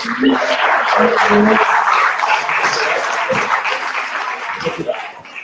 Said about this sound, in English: let's give another round of applause for Ms.